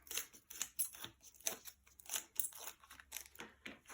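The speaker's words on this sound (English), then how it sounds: "So, peel off the backs." Backing film is peeled off small 3mm-thick adhesive foam pads for card making, a quiet series of short crinkling rips and snaps at close range.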